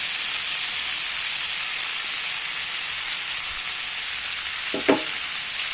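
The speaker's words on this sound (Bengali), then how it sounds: "এবার আমি দিয়ে দেবো এর মধ্যে ভেজে রাখা চিংড়ি।" Pre-fried prawns going into a hot pan of cooking oil, a steady bright frying sizzle throughout with a brief clatter of utensil stirring near the end, no voices.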